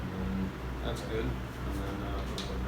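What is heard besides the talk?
No distinct noise like a dog, phone or traffic.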